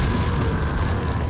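A rocket launcher blast in Resident Evil 4 erupts as one continuous loud, deep rumbling explosion that fills the whole short moment with no voices.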